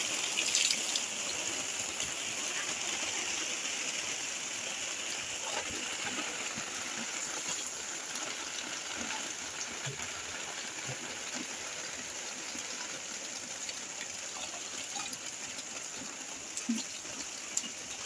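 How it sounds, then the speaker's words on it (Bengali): Heavy rain falls outdoors in a village in a steady, dense hiss of drops on surfaces that holds unbroken throughout, with a few faint knocks and splashes close by and no speech. "প্রচুর জোরে বৃষ্টি পড়ছে, দেখো আওয়াজটা দেখো শুধু"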